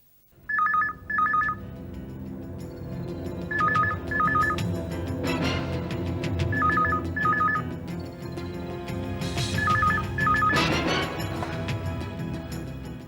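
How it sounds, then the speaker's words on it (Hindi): A telephone rings repeatedly during a call in a Hindi crime drama, with four loud paired electronic trills evenly spaced, over a dense music bed with swelling hits and crashes. "इंस्पेक्टर जादव और नितिन राठौर को फोन लगाओ"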